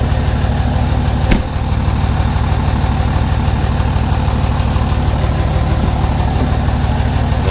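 A third-generation Cummins diesel pickup idles steadily and close by, a continuous low rumble with one brief sharp click early on and no talking.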